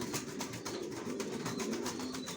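A male racer pigeon coos softly and steadily in a low, throaty murmur, close by, with no talk.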